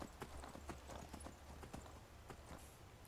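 Horse hooves in the video game Skyrim clip-clop in a quick galloping rhythm, faint and steady, with a few sharper hoof strikes standing out.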